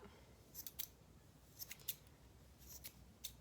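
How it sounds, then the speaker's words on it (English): Scissors snip a yarn pom-pom into shape, several quick crisp cuts in loose clusters, close and fairly quiet against a faint background hiss. "the more you trim it, the smaller your pom-pom will be"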